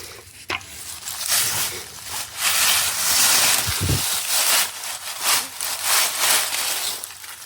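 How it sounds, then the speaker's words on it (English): A seed rake drags through a patch of stiltgrass, making repeated scratchy raking strokes that rise and fall over several seconds outdoors, close by, with no talking. "So that's what I'm trying with this seed rake."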